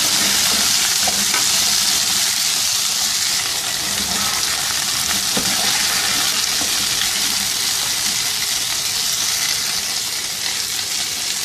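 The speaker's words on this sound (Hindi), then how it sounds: "2-3 मिनट इसको अच्छी तरह से फ्राई करेंगे।" About 500 g of cauliflower with whole cumin and mustard seeds sizzles steadily in hot oil while being stirred, a continuous loud frying hiss with scraping stir sounds and no talking.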